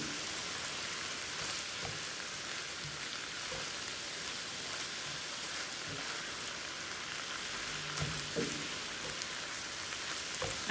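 Egg roll in a bowl filling, seasoned with soy sauce, ginger and garlic, frying in a pan gives a steady, even sizzle that holds for about eleven seconds, faint and close with no talking over it.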